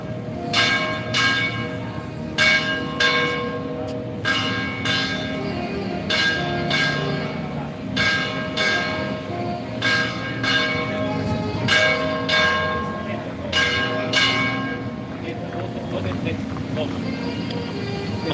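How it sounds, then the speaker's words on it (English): Church bells ring repeatedly in a steady, overlapping peal with a faint background hum, continuing for the whole stretch. "I'm just going to shut up and listen to the bells."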